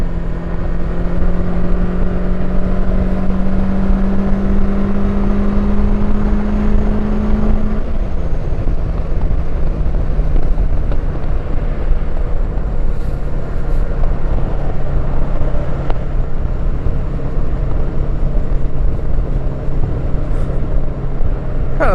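The engine of a cheap full-size touring motorcycle drones loudly and steadily at close range, rising in pitch early on before settling into a sustained cruise with heavy wind rush over it.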